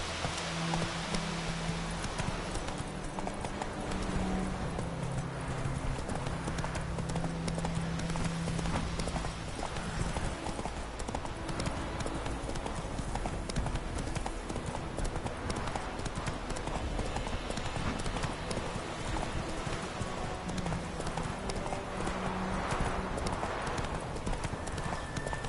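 Roach, a horse in a video game, gallops with loud, fast, continuous hoofbeats over a busy bed of game ambience that lasts the full length.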